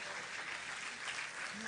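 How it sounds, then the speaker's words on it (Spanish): Church congregation applauding with sustained, dense clapping that fills the whole moment, a steady wash of hands with faint voices mixed in. "Alguien puede darle un aplauso al Señor."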